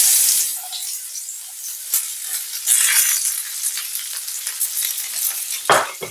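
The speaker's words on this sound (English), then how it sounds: "I'm going to saute these off" Plantain sautés in a frying pan with a loud, close sizzle and crackle, broken by scraping stirs and a sharp clatter near the end.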